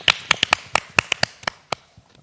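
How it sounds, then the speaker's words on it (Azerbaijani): Applause for kickboxing champion Elvin Məmmədov on a morning TV show, a short burst of sharp, separate claps close by, thinning out after about two seconds. "Gəlin alqışlayaq Elvini."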